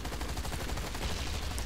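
A gun in the Hazrd Ops video game fires a rapid, continuous burst, loud and close, with evenly spaced shots like automatic fire and no talking.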